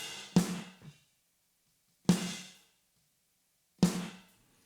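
Drum room mics gated open by each snare hit and heavily compressed: three sharp roomy snare bursts, each cutting off to near silence after a short decay, evenly spaced with clean gaps between.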